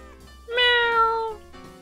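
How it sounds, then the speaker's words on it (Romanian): A single drawn-out cat meow, close and clear, rising then falling over about a second, set against quiet background with no talking. "Ia vezi pisicuța."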